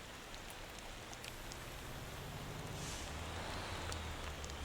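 Rain in the driving game Motor Town, a steady, faint hiss of falling rain with scattered light drop ticks and a low rumble underneath, continuous and even throughout.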